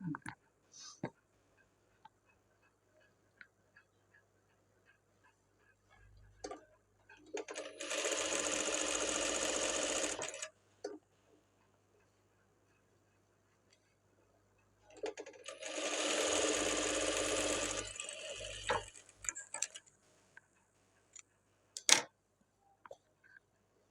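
A sewing machine stitching a blouse runs in two loud, steady bursts of about three seconds each. Quiet pauses separate them, with scattered ticks and clicks.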